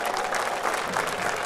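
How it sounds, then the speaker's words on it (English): An audience at a youth week dance event applauds, a steady dense patter of many hands clapping throughout. "the youth need a big round of applause for that"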